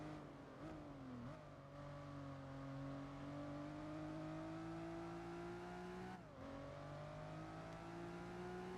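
Renault race car in Gran Turismo 4, a steady high engine drone rising slowly in pitch as it accelerates, with two brief dips at gear shifts, fairly quiet and without talk.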